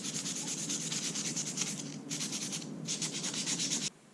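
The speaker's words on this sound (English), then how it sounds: "So I'm going to scuff up the white G10 and glue these together." White G10 sheet for knife scales being scuffed by hand with abrasive, a loud, close, rhythmic rasping of quick back-and-forth strokes in three bursts with short pauses, stopping abruptly.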